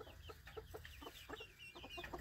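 Several chickens cluck in quick, uneven bursts close by as they face a copperhead snake, their short calls overlapping against a quiet background.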